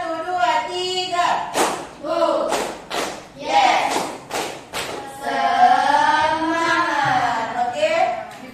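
An Indonesian classroom joins in a rhythmic clapping chant, groups of sharp claps landing on counted beats with chanted voices in between, followed by sustained spoken chanting.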